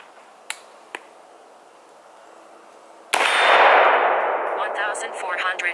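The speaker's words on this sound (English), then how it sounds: "We're gonna shoot just a few shots here at 10 feet." Shots fired at 10 feet through a ProChrono DLX chronograph: two sharp, quiet cracks come early, then one loud blast whose noisy tail lingers and slowly fades, with no speech.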